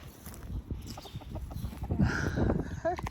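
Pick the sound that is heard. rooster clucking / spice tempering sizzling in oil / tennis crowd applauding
rooster clucking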